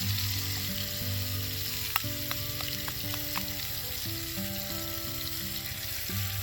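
Eggs frying with tomato in a pan while cooking outdoors near a dam, a steady close sizzle with a few sharp clicks and taps of a utensil over a low background hum.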